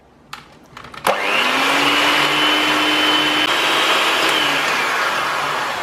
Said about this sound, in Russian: И сейчас будем взбивать белки.